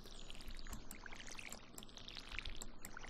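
A watering can in the video game Stardew Valley pours water in a soft, steady splashing stream lasting a few seconds, quiet and without talk.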